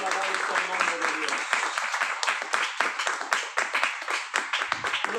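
A church congregation claps for the Lord, a dense, fairly close round of hand claps with distinct individual strikes, with voices and a few musical tones mixed in at the start.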